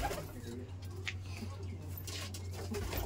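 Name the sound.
pigeons cooing in a loft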